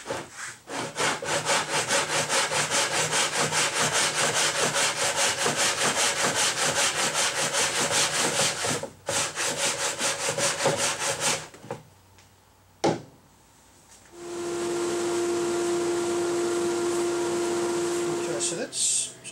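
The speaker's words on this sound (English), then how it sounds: "We can start sanding the angle into the top of the headstock now." Steady, rapid back-and-forth scraping of sandpaper on the wooden headstock of a Les Paul Junior style guitar goes on for a long stretch, briefly pauses, then resumes with a faint tonal hum.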